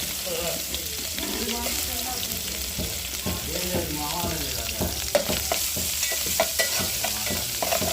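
Ginger garlic paste sizzles and fries in a pan, a steady crackling hiss broken by frequent scraping stirs and clinks of a spoon, close and fairly loud throughout.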